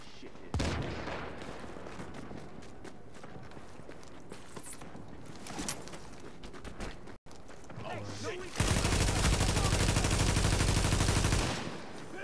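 Repeated gunfire bursts from The Division's Dark Zone during a solo run, sharp shots scattered through the first seconds, then a sustained loud automatic burst near the end, with game noise and some talk underneath.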